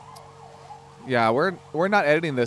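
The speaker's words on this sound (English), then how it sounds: "That we have some sirens behind us." Emergency vehicle sirens wail faintly outdoors in the background, a wavering tone that continues under a person talking nearby.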